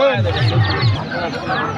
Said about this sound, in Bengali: এই পাশে আরও কিছু মুরগি আছে কাকালে কি মোরগ না দেশি মোরগ